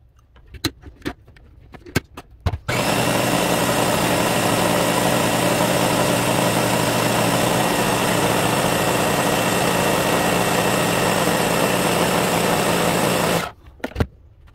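A Ninja food processor blending peanuts with a tablespoon of honey into homemade peanut butter, a steady loud motor whir running about eleven seconds, framed by brief clicks and clatter of the machine before and after.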